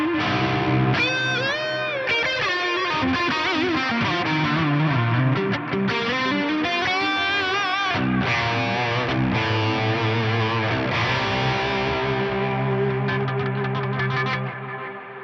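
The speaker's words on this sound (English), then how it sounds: "having like a sort of warble on one side and then having this big ambient reverb on the other" An electric guitar played through an Axe-Fx III, with a warbling chorus on one side and a big ambient reverb on the other, distorted chords and wavering bent notes ringing out densely without pause.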